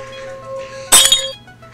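A drinking glass rings at its natural resonance as a steady sustained tone, then gives a short bright clink near the middle, with the ringing tone carrying on faintly afterward.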